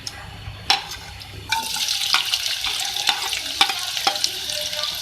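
Medium onion frying in hot oil in a kadhai for beef keema, a steady bright sizzle that swells sharply after about a second and a half, broken by sharp clinks and scrapes of stirring, close and loud with no talking.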